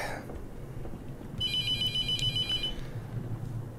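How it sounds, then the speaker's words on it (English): A telephone rings in The Mortuary Assistant horror game, a single electronic trilling ring burst over a low droning room ambience. "Let's answer the phone real quick."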